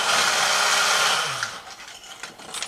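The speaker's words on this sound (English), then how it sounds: "The hair dryer, my bad." A hair dryer blows with a loud, steady whoosh for over a second, then switches off, leaving faint clicks and handling noises.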